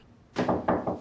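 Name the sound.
banging on a locked door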